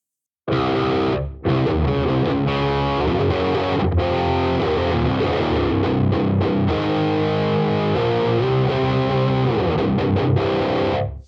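Electric guitar through a distortion patch on a Vox ToneLab EX recorded direct, thick saturated chords and riffs played continuously and loudly, with a few short chops and pauses, no voices over it.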